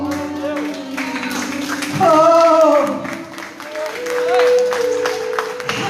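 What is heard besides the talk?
congregation applauding in church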